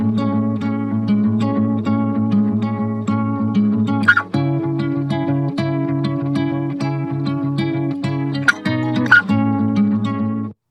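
Finger-picked acoustic guitar played alone at steady, close volume, with plucked notes ringing over a sustained low bass line and a couple of brighter accented strums.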